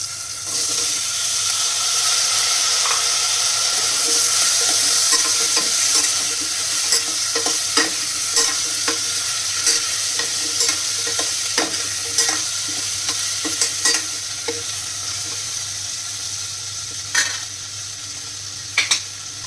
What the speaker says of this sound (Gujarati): બટેકાને નાખ્યા બાદ થોડીક વાર આપણે ચડવા દઈશું।